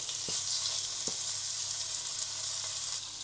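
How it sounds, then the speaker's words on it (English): Beef sears in a pan for a bourguignon, giving a dense, steady hiss of sizzling fat that stays close and even, broken by a couple of brief soft knocks. "to add our beef and sear it on all sides so we can lock in some moisture"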